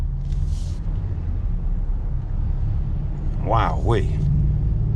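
Heavy, jam-packed highway traffic before a hurricane, a constant low rumble of engines and tires filling the scene while a person briefly exclaims over it.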